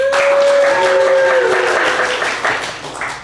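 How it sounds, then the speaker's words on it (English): An improv comedy show audience applauds to vote for a game, a loud, dense burst of clapping and cheering that fades over a few seconds, with a high whistle near the start. "Pretty good applause."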